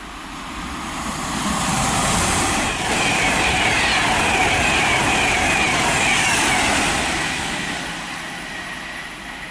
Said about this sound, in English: passing through now, we've got a Virgin Train service to Glasgow Central